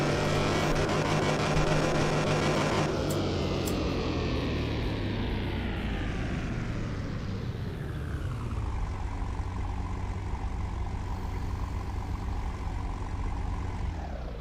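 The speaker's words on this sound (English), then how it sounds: "That is pretty decent sounding engine right there." An engine in Car Mechanic 2021 roars loud and close, then winds down in a falling sweep and settles to a steady idle hum, with no talk over it.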